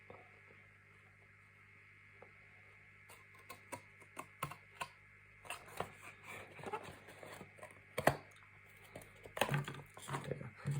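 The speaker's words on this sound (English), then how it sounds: "I could just take my knife and scissors" Cardboard is cut into a template with a knife and scissors, a quiet, irregular run of ticks, snips and scraping clicks that grows denser and louder toward the end.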